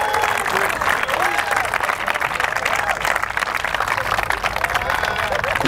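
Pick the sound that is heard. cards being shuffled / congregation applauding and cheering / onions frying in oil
congregation applauding and cheering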